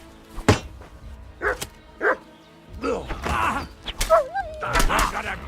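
Dog barks in Kingdom Come: Deliverance II, several sharp close barks and yips scattered over a few seconds amid shouting voices and combat noise.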